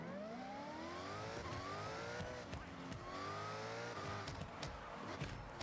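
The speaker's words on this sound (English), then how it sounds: "You hear the whine a lot more from the supercharger." A Corvette C6 engine revs with a prominent rising supercharger whine, pitch climbing and dropping in repeated waves over a steady mechanical rumble, faint overall.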